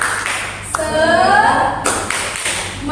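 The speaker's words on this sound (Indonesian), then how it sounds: "Tepuk semangat." Students in a biology class clap a rhythmic spirit chant, sharp hand claps in a short pattern close by, mixed with voices calling out together.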